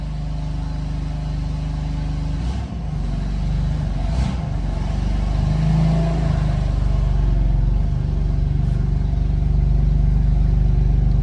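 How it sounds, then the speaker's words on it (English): A 2015 BMW M4 engine with an exhaust leak runs steadily throughout with a rough, low rumble and raspy puffing, continuous and fairly loud, with no voices. "You actually hear the exhaust leak pretty damn well."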